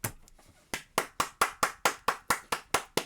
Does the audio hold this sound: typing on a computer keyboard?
no